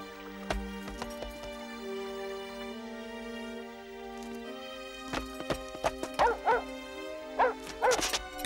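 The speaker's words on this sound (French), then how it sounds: "Tu es le chien de Cendrillon?" A dog barks and yips in several short bursts, close and fairly loud, over a musical background with sustained tones.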